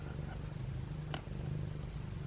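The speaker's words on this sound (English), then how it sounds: "He's purring so loudly" A cat purring loudly and steadily up close, a continuous low rumbling throb with a brief soft rustle partway through.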